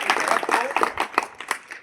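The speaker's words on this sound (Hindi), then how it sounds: "गालड़ गांव के लिए शानदार तालियां बजाएं" A crowd at a village public address in Galad, Rajasthan, claps in a dense, steady patter of applause, close and fairly loud, with no one speaking over it.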